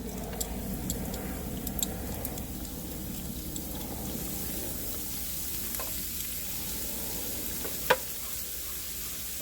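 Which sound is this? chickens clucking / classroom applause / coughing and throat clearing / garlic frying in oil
garlic frying in oil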